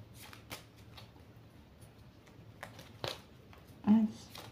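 A deck of tarot cards is shuffled and cut by hand, producing soft papery riffles and a sharper slap of cards near the end, close and fairly quiet with faint room noise.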